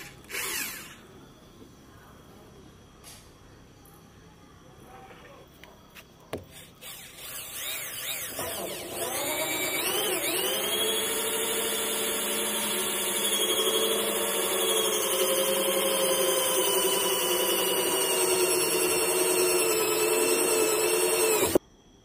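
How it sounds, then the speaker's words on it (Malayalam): A power drill fitted with a hole saw cutter bores holes in a water tank during plumbing work: after a few seconds of quieter handling noise, a loud, sustained whining cut runs steadily for over ten seconds. "ഹോൾസോ കട്ടർ ഉപയോഗിച്ച് ഹോൾസ് എടുക്കുമ്പോൾ വളരെ വൃത്തിയായിട്ട് ഡാമേജ് ഒന്നും കൂടാതെ തന്നെ ഹോൾസ് എടുക്കാൻ സാധിക്കും നമുക്ക്"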